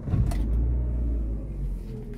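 A Chevrolet car engine idles steadily after being started with the key, a close, continuous low rumble with no talk over it.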